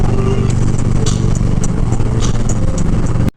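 A custom motorcycle fitted with an LED headlight fires up, its engine settling into a loud, steady idle rumble with close mechanical clatter throughout, then cutting off abruptly at the end.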